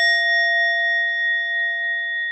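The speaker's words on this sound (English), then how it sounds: "I will invite the bell to let you know that this is the beginning" A meditation bell struck once, ringing out with a clear, sustained tone that hangs steady and loud and fades only slightly across the whole stretch, with no voices.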